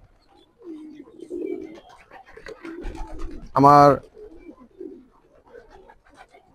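A Jalali pigeon gives a short, loud coo close by, with quieter scratchy movement and someone speaking before and after it.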